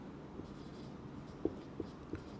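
Writing a definition on the board during a biology lecture: faint, scattered scratchy taps from the writing stroke, low in a quiet room with no talking.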